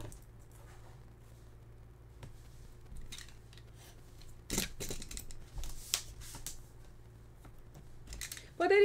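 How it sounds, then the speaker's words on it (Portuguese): Scissors snip the four corners of paper for a handmade album, several short close cuts and rustles scattered over a quiet room hum, with no talking. "aqui eu vou cortar os quatro cantinhos"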